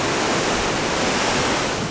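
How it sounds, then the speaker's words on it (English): Massive ocean waves crash into a sea cave along a rugged Portuguese coastal trail, a loud, dense, continuous roar of surf and spray with no pauses. "These waves are just massive coming in there. And they just slam into that cave over there"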